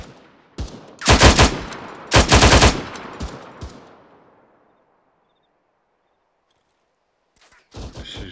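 Gunfire in the Arma 3 video game arrives as two loud, close bursts of rapid automatic fire, a few lighter shots, then a long silence before another burst at the end.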